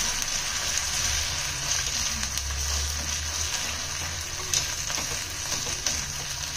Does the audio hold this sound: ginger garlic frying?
yes